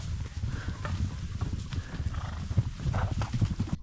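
Hooves of horses clip-clop on a trail during a mountain hike, a quick uneven patter of steps close by with a possible whinny mixed in and no talk.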